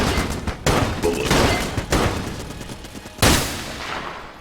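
Burst-firing gun in the video game Enter the Gungeon, sharp clustered volleys of shots cracking out in a few loud bursts with brief gaps between them.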